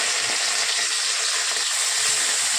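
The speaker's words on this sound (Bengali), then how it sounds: "তেলটা গরম হয়ে গেছে, এবার আমি মাছটা দিয়ে নেব" Fish sizzling steadily in hot oil in a home kitchen pan, a dense continuous hiss with no voices.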